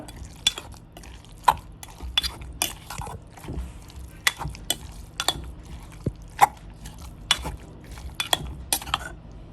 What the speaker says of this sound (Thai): เอาปลาที่เราสับไว้เนี่ยค่ะ ใส่ลงไป นะคะ แล้วก็คนให้ทั่ว